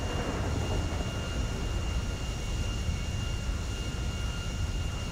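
An airliner's engine in GTA 5 roars continuously and evenly for several seconds, a dense loud drone with a thin steady whine on top and no voices.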